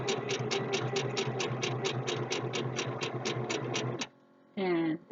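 A pedal-driven sewing machine stitches fabric slowly, making an even run of distinct clicking stitches. It stops abruptly, then a brief voice follows.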